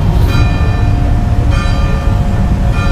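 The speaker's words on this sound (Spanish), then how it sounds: "Ahí está sonando la campana." A church bell tolls at noon, two strong strikes about a second and a quarter apart with a third beginning at the end, each ringing out with bright overtones over a steady low rumble of background noise.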